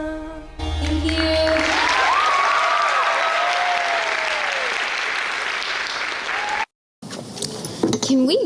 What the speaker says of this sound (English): Can we get another round of applause for Namita?